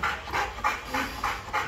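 A tired dog pants in quick, regular breaths, about five or six rhythmic huffs close by over a low background hum.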